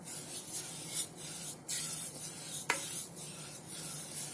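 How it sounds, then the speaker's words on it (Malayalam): Ingredients for milk peda made with avil stirred in a pan off the heat, giving soft repeated scraping and rubbing strokes with a few sharper clicks of the utensil against the pan, close by and with no talking. "ജസ്റ്റ് ഒന്ന് മിക്സ് ചെയ്ത് കൊടുക്കാം"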